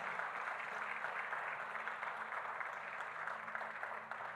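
A church congregation applauding together, a soft, steady wash of many hands clapping that carries evenly throughout, faint and somewhat distant.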